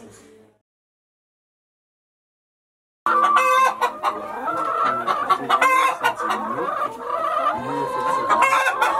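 Chickens on a farm cluck and squawk busily and loudly after a short near-silent start, with overlapping calls and a brief crow-like note, no talk.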